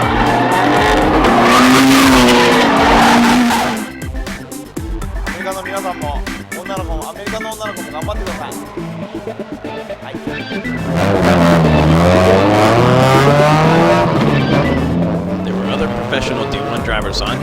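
D1 drift cars slide around a circuit at Tanaka Drift Day, loud engines revving hard under rising and falling tire squeal, with a quieter stretch in the middle before the screeching returns.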